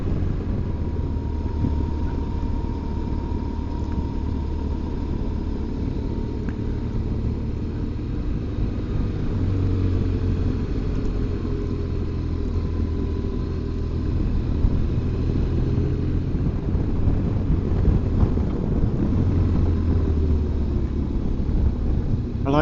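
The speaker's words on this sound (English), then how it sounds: "The joy of riding one's motorcycle." A motorcycle drones along a road on a Scottish island, a steady engine rumble mixed with wind noise and a faint, continuous hum as it cruises along.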